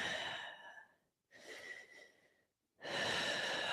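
Three slow, deep breaths drawn close to the microphone during a yoga pose, airy rushes separated by short silences, with no talking.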